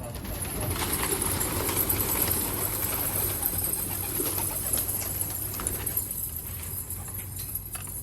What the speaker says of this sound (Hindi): तो हम कबूतर खोलते हैं।